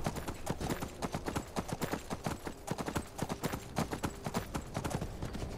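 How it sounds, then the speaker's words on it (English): Horse hooves clip-clopping steadily in the Skyrim video game, arriving at the city of Windhelm: a quick, even run of sharp hoof strikes at close range, with no talk over it. "let's leave our horses in the stable so they can stay warm"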